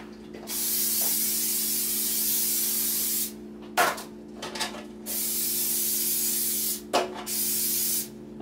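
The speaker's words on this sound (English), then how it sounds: "And you can spray the pork chop too." A can of cooking spray hisses onto pork chops in a home kitchen, three long close bursts separated by brief clicks and handling sounds, no talking.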